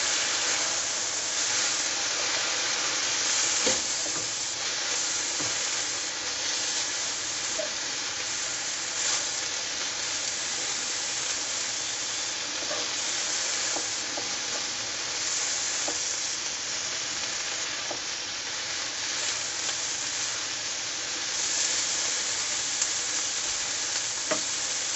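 Yam and carrots stir-frying in a pan: a loud, constant sizzle close by, with occasional scrapes and clicks as they are mixed, running unbroken with no talking.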